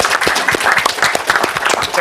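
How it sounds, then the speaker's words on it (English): An audience at an AI conference session claps in a steady, dense round of applause that fills the whole stretch, with a voice faintly mixed in. "applause"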